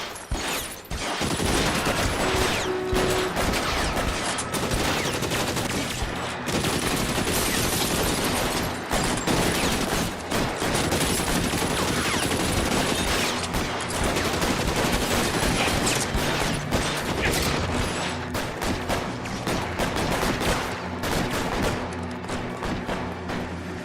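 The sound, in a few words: gunfire in the video game L.A. Noire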